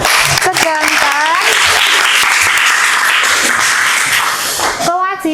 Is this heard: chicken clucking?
no